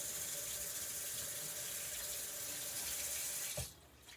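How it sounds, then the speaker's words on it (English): Tap water runs steadily over frozen smoked brats in a sink, a constant hiss of flowing water that cuts off abruptly near the end, leaving a brief quieter tail. "So what I like to do is I like to run it under water."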